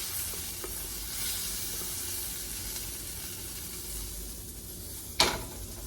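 Sausage frying in a pan, a steady close sizzle and crackle running throughout, with a sharp clink of a utensil against the pan near the end.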